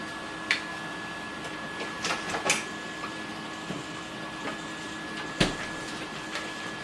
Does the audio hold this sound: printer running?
yes